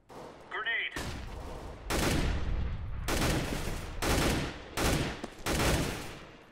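M4A4 rifle gunfire in the game CS:GO, heard as loud repeated bursts separated by short pauses, with a higher whining sound at the very start.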